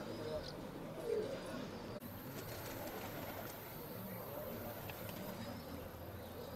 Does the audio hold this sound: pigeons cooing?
yes